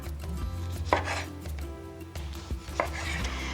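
A knife cuts a lemon into wedges on a board, giving a few distinct, close chopping knocks at an uneven pace with no talking.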